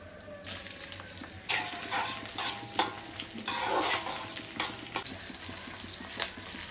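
Burnt onion and garlic frying in a pan, a steady sizzle with bursts of stirring and scraping that swell and fade in irregular waves.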